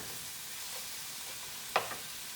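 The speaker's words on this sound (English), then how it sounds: "Okay, so the onions are starting to sweat out." Onions for a risotto sizzling in a hot pan on a stove: a steady soft frying hiss, quiet and close, with one brief clink or stir near the end and no talking.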